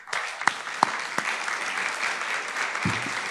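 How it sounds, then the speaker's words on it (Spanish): An audience applauds three panelists after their presentations at a hybrid panel on the United States Constitution and Puerto Rican society, steady moderate clapping with a few sharp louder claps and a brief voice near the end. "El aplauso para los tres que han hecho tremendas exposiciones."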